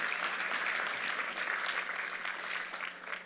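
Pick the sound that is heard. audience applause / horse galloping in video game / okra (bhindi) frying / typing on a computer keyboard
audience applause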